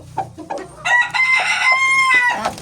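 A rooster crows loudly and close by, a long strained call, preceded by a few soft clucks from nearby chickens.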